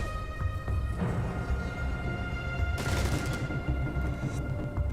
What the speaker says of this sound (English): A hail of gunfire coming from all around him here from Bakery